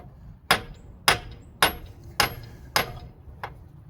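A hammer strikes metal under a car while its transmission is being removed. Six sharp, ringing whacks come at an even pace, close and loud, with no speech.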